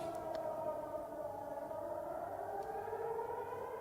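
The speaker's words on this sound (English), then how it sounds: "That classic like, nuclear air raid siren" A sustained nuclear air raid siren in Tolyatti, Russia, wails steadily throughout, its tone slowly sliding, loud and continuous with no other sounds competing.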